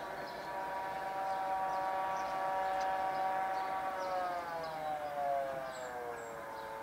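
A self-propelled forage harvester gives a steady, distant mechanical drone with a rising-and-falling tonal whine like an air raid siren, sustained without a break under faint outdoor ambience during maize harvesting.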